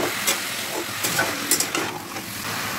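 Winter vegetables frying with dal in a pan, a continuous close sizzle and hiss broken by a few brief scraping stirs, with no talking.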